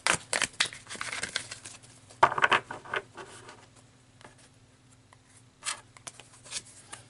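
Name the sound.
handling and pulling tarot cards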